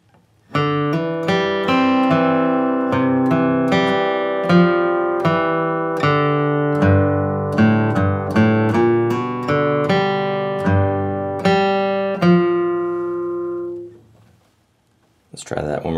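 Acoustic guitar crosspicking measures six to nine of the country and bluegrass tune Red River Valley: a steady stream of close, bright picked notes and ringing strings that rolls on for about thirteen seconds before fading out.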